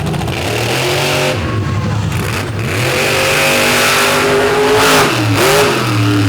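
A drag racing truck runs at a night drag race in Benson, North Carolina, its loud engine roaring and revving continuously with shifting pitch, close and dominant throughout.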